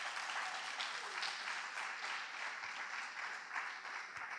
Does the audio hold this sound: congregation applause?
yes